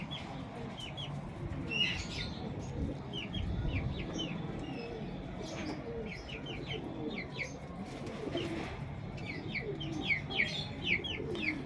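Pigeons coo and chirp in a loft, with a few soft wing flaps, a steady low murmur of cooing and scattered short calls, fairly close and moderately quiet, no voices.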